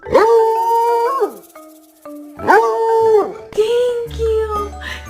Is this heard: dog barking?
yes